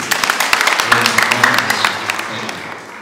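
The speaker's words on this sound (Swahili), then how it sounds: "So tumpigie makofi pia." A crowd at a pre-wedding ceremony claps for the groom, with dense, steady applause that continues under people talking nearby.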